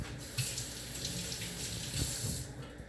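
Tap water runs steadily into a sink as a cast iron pan is rinsed, a soft continuous splash with a few brief louder gushes, no voices.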